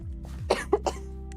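A person coughs three times in quick succession, close and fairly loud, over a low steady background hum.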